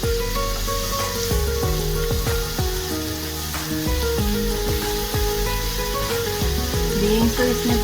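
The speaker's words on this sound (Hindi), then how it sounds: "भून लें ज़रा सब्जियों को आप" Vegetables, beans among them, sauté for sambar with a steady, close frying sizzle and crackle. Short scraping stirs of a utensil against the pan break in repeatedly.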